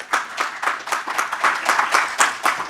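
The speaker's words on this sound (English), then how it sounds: "A round of applause." A small group claps steadily, scattered individual claps blending into light applause that continues throughout.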